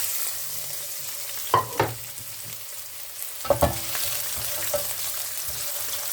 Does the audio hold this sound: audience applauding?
no